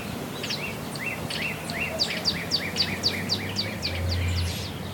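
A bird calls in a quick series of sharp, repeated chirps over a soft outdoor background, fairly close and clear, in a backyard in Baja California.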